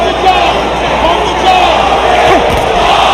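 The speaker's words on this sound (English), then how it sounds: "Crowd trying to encourage their man" A boxing crowd roars and cheers at the 2004 Bernard Hopkins vs Oscar De La Hoya middleweight unification bout, a loud arena wash that swells in places while someone talks over it.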